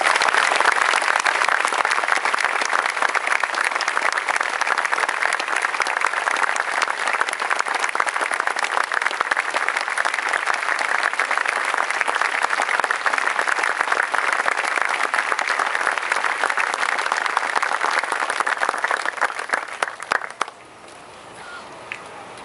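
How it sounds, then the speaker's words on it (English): A crowd at a Pearl Harbor Remembrance Day 70th anniversary ceremony applauds a Pearl Harbor veteran, a platoon sergeant, with steady, dense clapping that holds loud for about twenty seconds before tapering off abruptly. "I would like to hear a warm welcome for Platoon Sergeant Mal Middlesworth."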